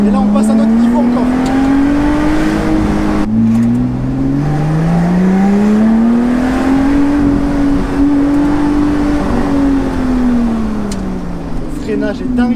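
A Lotus Exige V6 S 3.5 accelerating hard on a road, its engine note climbing through the revs, dropping at a gear change, then rising and falling again, loud and close from inside the car, with people talking over it.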